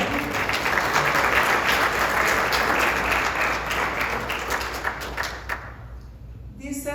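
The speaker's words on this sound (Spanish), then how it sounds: "denle un aplauso al Señor" A church congregation applauds in a full, steady roar of clapping that gradually thins and fades out toward the end, with voices mixed beneath.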